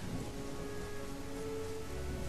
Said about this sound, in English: It's fucking dark and rainy and awful.